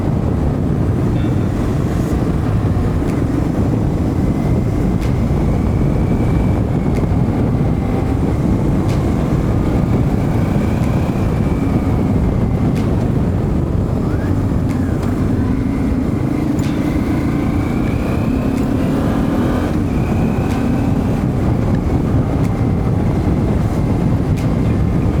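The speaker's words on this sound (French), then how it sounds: "j'entends que la T7 elle fait du bruit quand même" A Yamaha Ténéré T7 adventure motorcycle rides a dirt trail, its engine a constant low drone buried under heavy wind buffeting on the microphone, with pitch rising and falling as the rider works the throttle.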